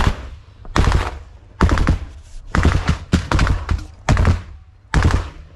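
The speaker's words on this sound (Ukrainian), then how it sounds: "Стріляє 30 мм гармата БМП" Heavy 30 mm cannon fire from an infantry fighting vehicle about 5 metres away in combat, booming in loud, separate bursts of rapid shots with short pauses between them and no speech.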